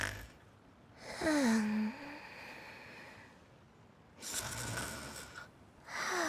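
Ganyu, a character in Genshin Impact, snoring softly while asleep, two drawn-out breathy snores separated by a quiet pause, with soft game ambience around them and no talk.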